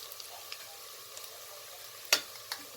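Spices frying in a pan for masala jeera rice, a faint, low sizzle with small ticks and one sharp clatter of a utensil a little past the midpoint.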